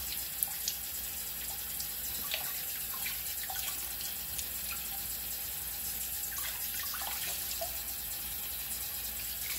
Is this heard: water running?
yes